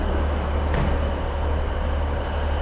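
Steady rumbling ambience inside Preston railway station, with a continuous low hum of idling trains and a constant wash of broadband noise, broken only by a brief faint clank.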